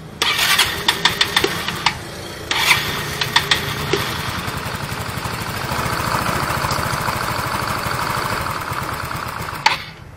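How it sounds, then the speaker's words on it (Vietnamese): A Yamaha Nouvo 6 scooter engine with weak compression cranks with several short bursts, catches, and settles into a steady, close idle that runs on alone. "giờ để mình nổ máy là cho anh em nghe cái tiếng xe nó"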